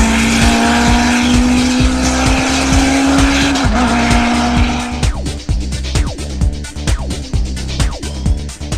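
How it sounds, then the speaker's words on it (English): A Formula BMW open-wheel race car in the Live for Speed racing game sounds loud and continuous, its engine whining steadily and then revving in rapid gear-change pulses and shifting pitch, with no talk over it. "here's the Formula BMW in LFS"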